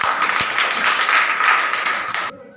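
Students in a classroom clap their hands together in a dense burst of applause lasting about two seconds, then stop abruptly.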